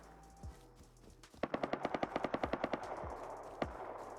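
Rapid automatic gunfire in the survival video game Rust, a loud burst of about a dozen evenly spaced shots with a few scattered single shots before and after, heard alone without talk.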